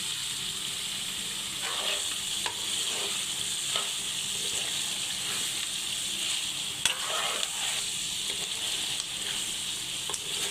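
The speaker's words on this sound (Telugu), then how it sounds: "ఓ టెన్ మినిట్స్ వరకు ఇట్లాగే ఫ్రై చేసుకుంటూ ఉండాలండి చూడండి ఆయిల్ పైకి వస్తుంది" Farm chicken fries in oil in a pan, giving a steady close sizzle and hiss throughout, broken by occasional scraping knocks from stirring; no voices.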